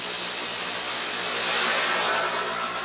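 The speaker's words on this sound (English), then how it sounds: "Time flies when you're riding in a twin-engine Bell 412" A twin-engine Bell 412 air medical helicopter drones steadily from inside the cabin, a loud, even turbine whine and rotor roar with no talk.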